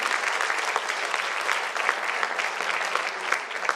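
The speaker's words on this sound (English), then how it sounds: "I want a round of applause for my spirulina, please." Steady, dense applause from a crowd, continuous clapping throughout with no pauses.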